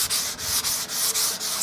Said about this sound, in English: sanding the tank